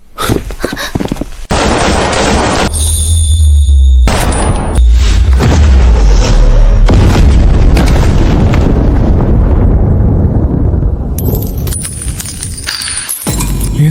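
A massed volley of gunfire in a Chinese short drama, heard as loud, dense booming bursts that roll on continuously for most of the stretch with no talk over them.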